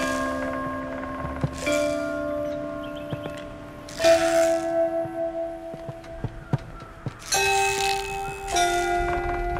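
Bell-like chimes ring out a short six-note melody, E C D E G F, played to mimic a crested owl's call in the Botany Manor video game; notes sound in clustered pairs with ringing sustain, fairly clear over a quiet background.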